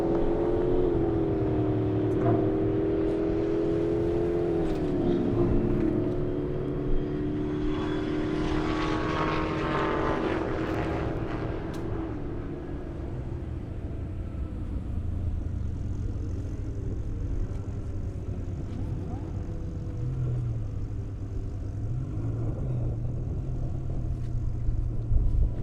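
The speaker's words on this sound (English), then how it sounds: "Kevin Kahn in the Corvette. Jason Burrow in the Hellcat." Chevrolet Corvette and Dodge Hellcat race down an airstrip, a loud, steady engine roar carrying through the whole run, with a rising surge of high-revving strain near the middle before settling into a sustained drone.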